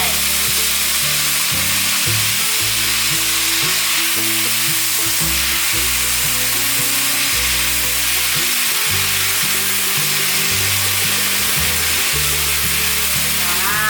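Cabbage and cucumber stir-frying in a hot pan, a loud continuous sizzle with irregular scraping and tossing strokes of a utensil throughout, no voices.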